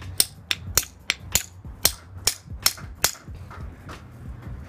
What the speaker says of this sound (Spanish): Cuando ya le pegas al buje para que entre, con un martillo de goma